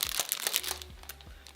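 Packs of sticker sheets crinkle up close in a few quick, crackly bursts that fade toward the end, with no talking.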